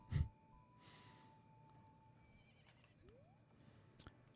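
A horse in Majora's Mask gives a faint snort and breathy neigh, with a soft low thud at the start and a few light clip-clops near the end, quiet and distant.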